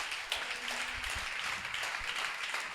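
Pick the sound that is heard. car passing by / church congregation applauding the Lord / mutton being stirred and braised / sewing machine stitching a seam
church congregation applauding the Lord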